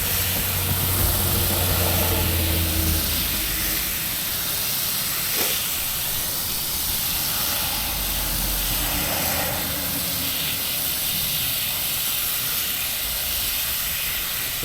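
A low-pressure water hose gently rinses cleaner out of a K&N air filter, producing a steady close hiss of spraying water that continues throughout, with faint shifts as the stream moves.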